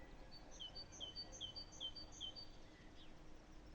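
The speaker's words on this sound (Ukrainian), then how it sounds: "чуєте, як мило співає птаха?" A small bird sings in spring among flowering hyacinth and daffodil beds, a repeated series of high, clear whistled notes in an even rhythm, fairly faint against a soft background hum.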